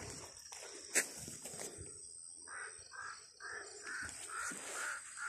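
A crow-like bird caws repeatedly on a mountain hike up Mt. Tupinao, a series of moderately distant calls over quiet outdoor air, with a sharp knock near the start.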